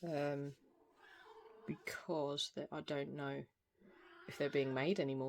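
A cat meows several times close to the microphone, drawn-out and tonal, between stretches of someone talking.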